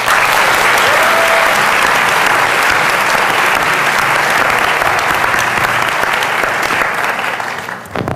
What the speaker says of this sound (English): So please, a round of applause for all our panelists